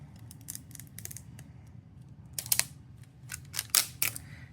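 A pen-style craft cutter swiping through plastic, producing sharp, close, crisp snicks and scrapes in uneven clusters over a low background hum, louder toward the end.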